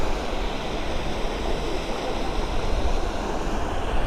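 River water rushes through Kadiya Dhro canyon in Kutch, a steady, broad churning hiss of flowing current, close and loud without a break.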